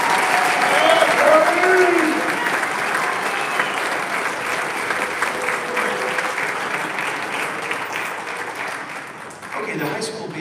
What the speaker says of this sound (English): Can we have an extra round of applause for Jacob Hoffman on the harp part and Bella Black on the piano part?